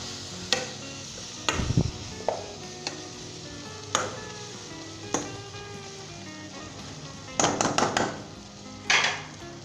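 Achar mutton gosht is stirred with lemon juice in a pot, a spoon scraping and knocking against the metal in scattered clinks and thumps over a low sizzle, with no talking.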